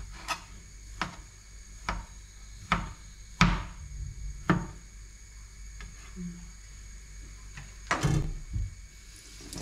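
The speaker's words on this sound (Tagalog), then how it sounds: "Hotdog na nga lang hinihiwa ko, nagkakamali pa." A knife slices a hotdog on a cutting board in a home kitchen, producing a series of sharp, irregularly spaced chopping taps that are close and fairly quiet, with no one talking.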